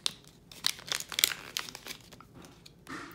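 A plastic bank card sleeve crinkles and crackles as it is handled, a run of close, dense rustling bursts that fade into quieter handling toward the end.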